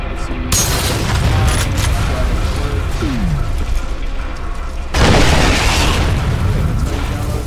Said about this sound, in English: I also have this grenade launcher, which doesn't show up in the base game